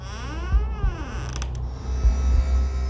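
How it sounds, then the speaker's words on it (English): A wooden floor creaks in a quiet bedroom at night, one drawn-out groaning creak followed by a second, close and fairly loud against a low, steady hum. "We hear a creak in the floor."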